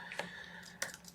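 Light typing on a computer keyboard while setting up a network, a few soft separate key clicks spaced apart against a quiet room hum.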